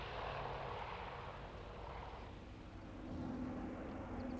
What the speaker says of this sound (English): The A-26 was quite a long-lived aircraft.